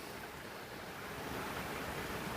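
Creek water at a campsite by Bull Creek rushes in a steady, soft wash of flowing noise, continuous and fairly quiet with no voices.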